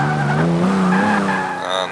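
A car launches at full throttle off the line in Forza 5, the engine note climbing and holding a strained, tonal roar, loud and close, with a whine of tire squeal over it.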